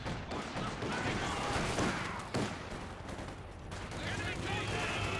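Bursts of machine gun and rifle fire in a real-time strategy game battle, with dense rapid volleys and explosions layered under a commentator's fast talk.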